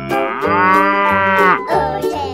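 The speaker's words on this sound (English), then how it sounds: "Cow." Cow mooing, one long loud close moo that swells and slides down in pitch, followed by a shorter second lowing call.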